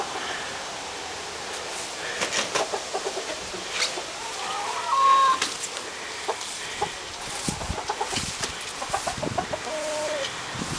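Backyard chickens cluck in short, scattered bursts at close to moderate range, with one louder squawk partway through against a quiet outdoor background.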